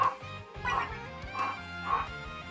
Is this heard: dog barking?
yes